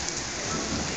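Heavy rain pours down on a flooded street, a dense, steady hiss of water hitting the surface, loud and unbroken throughout with no voices.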